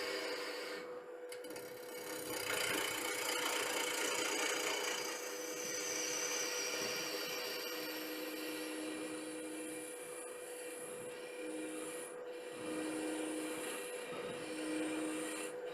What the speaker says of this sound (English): So I'll use my round skew just to reduce the diameter here, just do a peeling cut to bring that down.